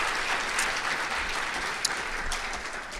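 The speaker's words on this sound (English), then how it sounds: "Can we give a hand clap for that?" Steady applause fills an awards ceremony hall, with an audience clapping continuously at moderate volume and a single sharper clap standing out briefly.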